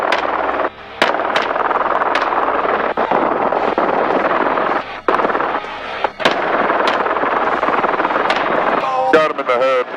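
Rapid bursts of gunfire from a helicopter during a hog hunt, loud sharp reports over the steady roar of rotor and engine, with voices talking briefly.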